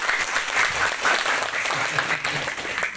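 An audience at a religious lecture breaks into lively applause, a dense crowd of clapping hands that swells and dips in waves for a few seconds, moderately loud.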